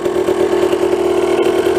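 A 27-year-old Honda 125 MTX motorcycle runs after a kick start, its engine settling into a steady, close, loud idle with an even pulsing beat throughout.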